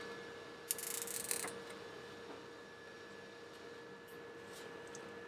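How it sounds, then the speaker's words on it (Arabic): Plastic cable ties zipped tight by hand, a quick close ratcheting burst lasting under a second followed by faint clicks over a steady background hum. "بعدها نشد اول واحد فيهم، بعدها نشد الثاني"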